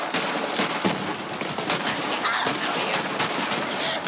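Dense rapid gunshots from Borderlands 3 crackle loudly and continuously, individual shots clustered in quick irregular bursts with no talking.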